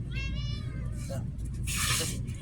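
A pet cat at a camp in Jeddah gives a short run of close, clear meows, with a person talking over and around them.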